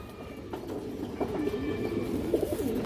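A male Giribaz high-flyer pigeon coos in a series of soft, throaty calls close by, repeating at irregular intervals over a low background hum.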